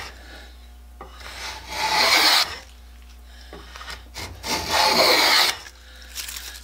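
A hand plane cuts along the grain of a wooden workpiece in two long, rasping shaving strokes separated by quieter pauses, heard close up.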